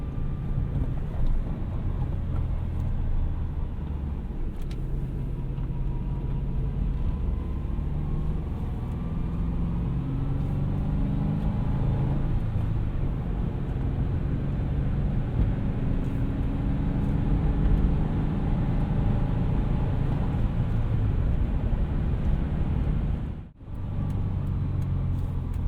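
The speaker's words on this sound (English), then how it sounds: "the noise of a Boxer engine is just so different than other 4-cylinders. A little more of a grumble." A 2005 Subaru Forester 2.5XS with a manual gearbox and a boxer four-cylinder engine drives along, giving a steady low grumble with road and wind noise as it runs continuously.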